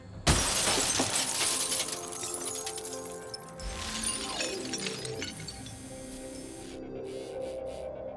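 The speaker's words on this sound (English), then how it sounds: "For this test, the robot has been fitted with a small ramrod designed to break through glass." A bomb-disposal robot's small ramrod smashes through a car window, a sharp crash of breaking glass followed by sustained crunching, scraping and tinkling of shards and mechanical noise, loud and close.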